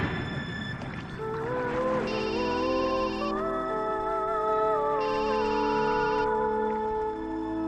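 A mobile phone ringtone playing in a Telugu film scene, a bright electronic melody with sustained tones and repeating chime bursts, loud and continuous with no talk over it.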